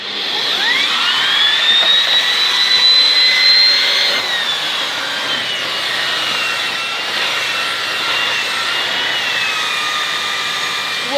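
A Miele C2 Compact Powerline canister vacuum cleaner whirs up to a high whine, then settles into a lower, steadier roar as it runs on carpet nearby.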